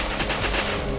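Rapid automatic gunfire in the World War II shooter Heroes & Generals, a fast burst of about five or six close, loud shots in quick succession with no talking.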